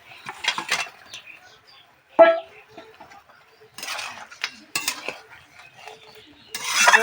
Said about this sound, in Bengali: দেখো ঝোলটা এখানে ভালো মতন ফুটে গেছে এবার আমি ভাজা মাছগুলো দিয়ে দেবো